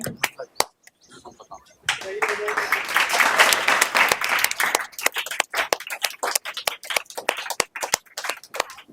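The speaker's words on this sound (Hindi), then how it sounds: "एक बार जोरदार तालियां बजा दो अपने लिए भी" Students at a school quiz competition applaud themselves: a few scattered claps swell into dense, loud group applause, then thin out to sparse, uneven claps near the end, with voices faintly underneath.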